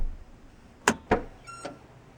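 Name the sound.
Toyota Camry trunk release lever being lifted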